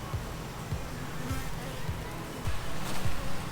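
Honey bees buzzing around an opened hive during a spring inspection, a steady low drone with occasional louder passes of individual bees close by, continuous throughout.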